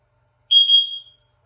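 A single electronic beep from an Ajax alarm system disarming, high and tonal, sounding for about half a second and then fading out, with silence before and after.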